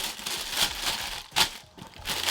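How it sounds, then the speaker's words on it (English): Tan wrapping paper crinkles around a pair of sneakers as it is handled close up, with several louder rustling bursts among softer continuous crackling. "paper that these are wrapped in."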